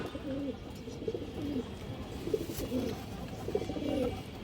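A fancy pigeon with a club leg tag gives several soft, rolling coos in short bursts, spaced across a few seconds against a quiet, low background hum.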